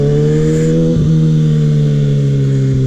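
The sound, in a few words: Kawasaki ZX6R 636 motorcycle engine while riding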